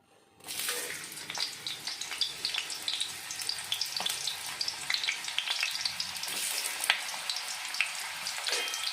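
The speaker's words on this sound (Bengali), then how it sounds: "পেঁয়াজটা ভাজবো একটু লাল লাল করে" Onions hit hot oil in a kadai and sizzle steadily, a bright crackling hiss with scattered sharp pops that starts abruptly and holds close and even throughout.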